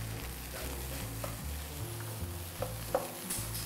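Rice being stir-fried in a pan with peas, a soft steady sizzle with a few light scrapes and taps of the spatula, no talking.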